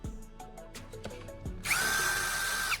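A few sharp knocks, then a power drill whines steadily at high pitch for about a second drilling a small hole through a plastic phone charger casing, close and loud.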